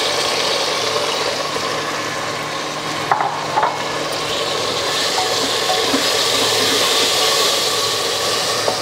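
Tomatoes tip into a pan of light-browned frying onions, bringing a steady, loud sizzle with a brief stir and clatter midway and no talking.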